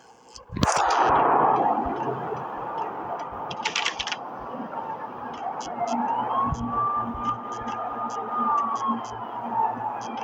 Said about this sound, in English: The storm was a screaming duet with the approaching prowl car sirens.